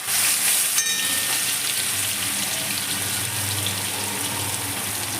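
Onion, ginger and garlic paste hits hot oil in a pan for a squash and potato curry, bursting into a loud, close, hissing sizzle. The hiss settles into a steady, slightly softer crackle, with no talking.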